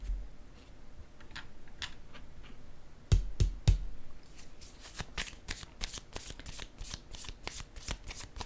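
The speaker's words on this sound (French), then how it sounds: "Je vais piger une autre carte." A deck of cards is shuffled and drawn at close range, with a few soft slides and then three sharp riffle snaps, followed by a quick run of flicking card sounds.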